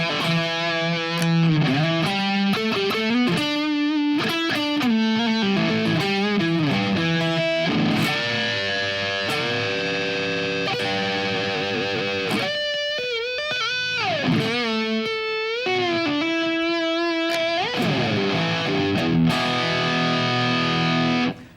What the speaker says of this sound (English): If I add the overdrive pedal now, here's how much distortion I've got.